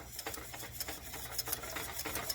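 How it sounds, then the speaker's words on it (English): Homemade mustard mixture whisked in a pan over heat, a quick steady scraping and ticking rhythm of the whisk against the pan, close and fairly soft, with no talk. "we're going to turn on the heat and begin whisking this together"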